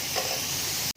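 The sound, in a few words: ground spices frying in pan for matar keema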